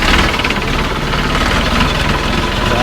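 An MB Trac tractor's diesel engine runs at a low idle, loud and close, with a steady knocking rumble and vibration throughout, and no voices.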